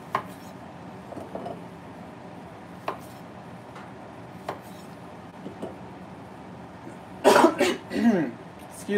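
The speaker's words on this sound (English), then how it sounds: "I still have a lingering cough" A person with a lingering cough lets out a short burst of harsh coughs and throat clearing near the end, loud and close, after quieter kitchen clinks and taps while cooking dinner.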